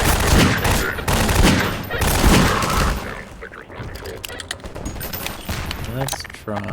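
Rapid video game gunfire hammers in sustained bursts at first, then breaks into scattered shots and mechanical clicks, with a voice talking partway through.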